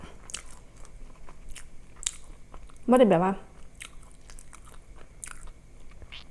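Crisp vegetables crunched in a few bites, one loud close burst of crunching chewing standing out over quiet background, with someone speaking briefly.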